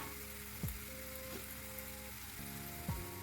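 Steady sizzling of onions and carrots frying in a pan for green borscht, with a couple of soft utensil scrapes as they are stirred.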